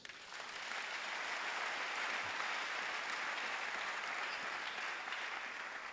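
Sustained applause from a church congregation clapping for Jesus, a dense even wash of hands that swells in quickly and holds steady, heard from a slight distance.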